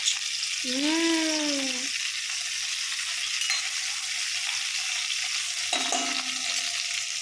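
Cumin crackles in hot oil as a ginger, chilli, garlic and onion paste fries in a pan, giving a continuous, close sizzling hiss throughout, with a brief whistling tone near the start and a short one later.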